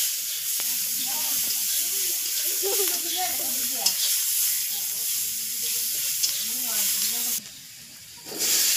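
Eggs frying in a pan over a home cooking stove, a steady close hiss and sizzle running throughout, with a person speaking over it and a brief drop in the sizzle near the end.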